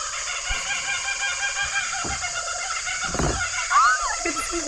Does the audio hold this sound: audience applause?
no